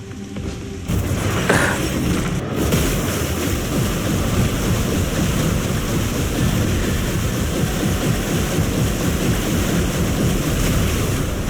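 A ninja character runs across water in the video game Ninja Gaiden, making a loud, continuous rushing splash like surf or wind, opening with a brief sharp burst and then holding steady without any voices.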